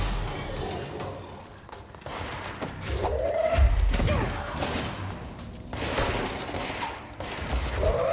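Gunfire from the video game Control, with a few heavy shotgun blasts and thuds among ongoing combat noise at moderate level.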